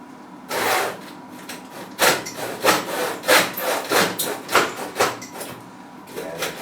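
A hand saw with heavy, rough-cut teeth cuts through wood for bonsai staging: one opening stroke, a pause, then a steady run of rasping back-and-forth strokes, close and loud, with no speech.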